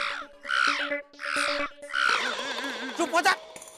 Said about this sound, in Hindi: ये कौवे को शांति नहीं है, सुबह से काऊ काऊ कर रहा है।